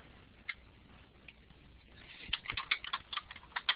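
Keystrokes on a computer keyboard during a math lecture, first a few isolated taps, then a quick, irregular burst of close, crisp clicks over a quiet room hum.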